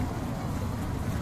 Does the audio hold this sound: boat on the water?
yes